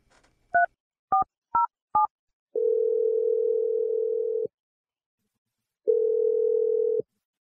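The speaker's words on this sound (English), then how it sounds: "Dial his number right now." Four short touch-tone dialing beeps in quick succession, followed by two long steady ringback tones separated by a pause, clean and isolated over silence as a phone call is placed.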